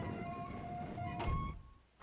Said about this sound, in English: wait for like this thunk sound, because that's the sound of the hammer right before it falls